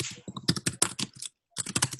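Rapid clattering keystrokes on a computer keyboard, typed in quick bursts with a brief pause partway through, close and fairly loud with no talking.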